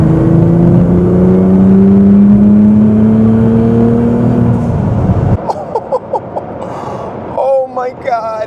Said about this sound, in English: This exhaust sounds amazing.